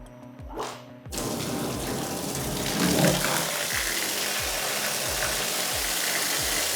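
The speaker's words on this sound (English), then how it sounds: "On here now we have a nozzle which has a flow rate of 100 liters per minute, which will demonstrate some really hard conditions for our seal." A high-pressure water nozzle running at 100 litres per minute blasts a Roxtec cable seal. The spray bursts on after about a second into a loud, steady hiss, with a pump thumping rhythmically underneath.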